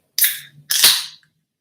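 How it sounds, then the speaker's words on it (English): A can of cold drink is cracked open with two sharp, close hissing snaps, the second followed by a short fizzing release that fades out quickly. "Crack open a cold one with me"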